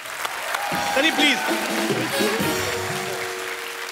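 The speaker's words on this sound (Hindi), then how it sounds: "जोरदार तालियां" A television comedy show's studio audience applauds steadily while people talk over it.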